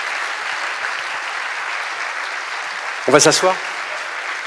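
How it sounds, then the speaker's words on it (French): Audience applause greets three panel speakers at a round-table event on life in space, a steady wash of clapping that runs throughout, with a nearby voice speaking briefly over it near the end. "je vais peut-être demander aux 3 intervenants de venir sous vos applaudissements"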